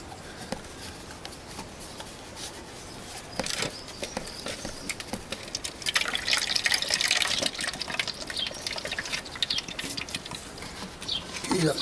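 Water from a Honda CBR1000F motorcycle header tank being drawn out, with faint trickling and sucking liquid noises that grow busier and splashier midway, patter continuing to the end amid clattering handling.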